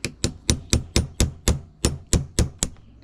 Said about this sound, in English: punch it out just like that.